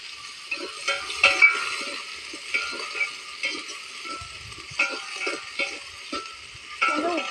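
Mustard seeds sizzle in hot oil in a pan while a spoon stirs and scrapes, giving a steady frying hiss broken by irregular metallic knocks and scrapes, with no talking.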